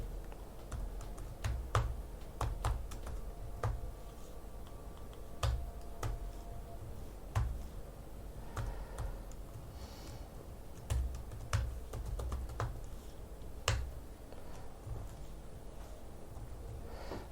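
Typing on a computer keyboard while writing a Go program, with irregular bursts of crisp key clicks and occasional louder keystrokes, close and fairly quiet, no talking.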